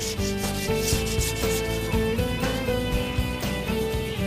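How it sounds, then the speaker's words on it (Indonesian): Scrap wood is sanded smooth for a recycled craft project, a steady rasping scrape running continuously under loud background music. "diamplas terlebih dahulu agar halus"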